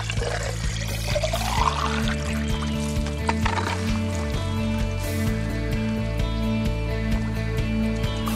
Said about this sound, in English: Pour it in our jar.